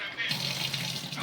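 Tap water runs steadily into a container, a continuous hissing splash that holds at an even level from start to finish, with a brief quieter moment at the very beginning.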